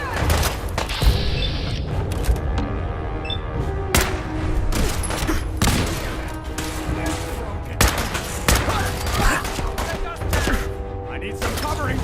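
Fallout 4 combat gunfire: rapid, loud volleys of shots and bursts crackle throughout a busy firefight, with sharp broadband cracks near 1 s, 4 s and 8 s, thuds and booms mixed in, and game voices calling out under the shooting.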